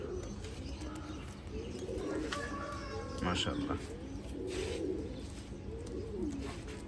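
Gorra pigeons coo softly and repeatedly at a pigeon farm, their low throaty calls rising and falling against steady background noise, while a voice speaks over them.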